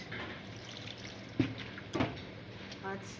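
Small amount of water poured by hand over garden egg leaves being prepared for juice, giving a few soft splashes and drips at close range, quiet and brief, with a voice speaking over it.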